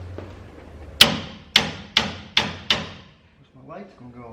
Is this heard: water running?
no